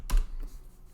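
A short burst of computer keyboard typing, a couple of quick key clicks up close in a quiet room.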